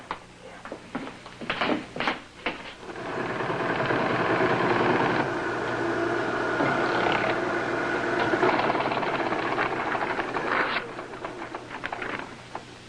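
A teletype machine in a police office prints out a record with a steady, rattling mechanical clatter that runs for several seconds after a few sharp knocks, then tapers off near the end. No one speaks.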